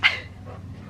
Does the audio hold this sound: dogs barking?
yes